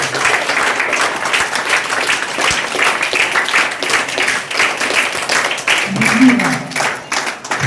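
Sustained applause from an audience at a village school-enrolment festival, dense clapping filling the room at close range and loud, with a faint voice briefly heard beneath it near the end.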